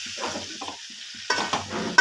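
Someone stirs food as it fries in a pan, giving soft scraping strokes over a faint sizzle, with a few louder clinks near the end and no talking.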